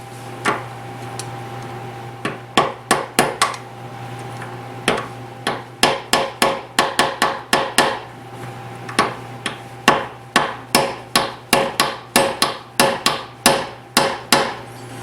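A hammer strikes a screwdriver over and over to free a stuck part during a Chevy S10 V8 swap. The sharp metallic blows come close and loud, in a quick, mostly steady rhythm with a few pauses.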